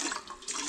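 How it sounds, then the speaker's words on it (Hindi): Water gushes from a pipe, filling a trough for a buffalo on a hill farm, a continuous close rushing splash. "यहाँ पे पानी भर रहा है"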